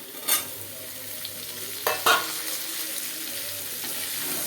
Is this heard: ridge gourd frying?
yes